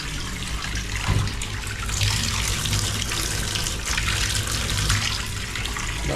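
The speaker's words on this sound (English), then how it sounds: "let's give the bath a run and see what temperature the water comes out like there" A bath tap runs water into a tub nearby, a steady, loud, hissing gush that keeps going throughout, with faint splashing variations and no talking.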